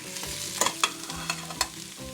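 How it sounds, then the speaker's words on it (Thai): Shallots and garlic stir-fried in a pan for tomato sauce, a soft scraping stir with light sizzle and a few sharp utensil clicks against the pan, close and fairly quiet. "ก็จะคั่วไปจนกว่าหอมมันจะสุกแล้วค่ะ"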